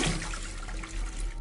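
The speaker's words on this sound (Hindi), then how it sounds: "जब मैंने टॉयलेट में से फ्लश करने की आवाज़ सुनी" A toilet in a mall restroom flushes, a short rushing surge of water heard close and alone.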